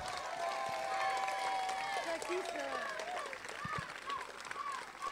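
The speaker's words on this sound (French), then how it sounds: "Je vous demande un applaudissement." Audience applause for an artist at a summer festival, a faint scattered patter of clapping under a speaking voice and distant crowd murmur.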